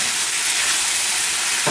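Pastelle filling meat browning in a pot for a traditional Trini dish, giving a steady, close, continuous hiss and sizzle with no breaks and no voices over it.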